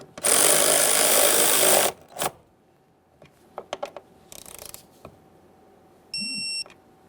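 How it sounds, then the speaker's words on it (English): A ratchet tightening the door check mounting bolt on a 2015-2020 Ford F-150, opening with a loud, sustained burst of rapid clicking, then scattered metallic ticks and clacks and a short electronic beep near the end. "As for the mounting bolt first, we'll go ahead and bottom this out."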